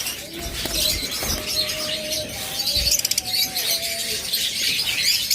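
Lovebirds, including green opaline pairs, in cages on a breeding farm give thin, steady chirps and tweets with a few sharper calls. A busy, moderately loud aviary backdrop with brief flutters.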